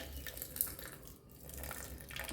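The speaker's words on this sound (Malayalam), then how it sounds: "ഇനിയിപ്പോൾ നമ്മളെ ബീട്രൂട്ടിൻ്റെ വെള്ളം ഒഴിച്ചു കൊടുക്കുന്നുണ്ട് കേട്ടാ." Beetroot water being poured for juice in a home kitchen, a soft continuous trickle and splash of liquid, faint and close, with no talk over it.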